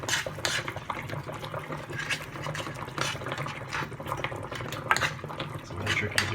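Shrimp being stirred in a pan off the heat, sitting in their own juices, gives a wet bubbling and scraping sound with a few utensil clinks against the pan, close and moderately loud.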